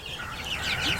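Chickens sitting on their perches in a coop cluck and chatter softly in a continuous murmur, with a few higher calls rising above the flock.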